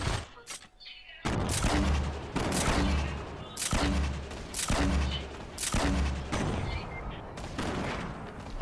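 Grenade explosions in the video game Fortnite, a run of heavy booming blasts at a steady rhythm, loud and close, with player voices talking over them.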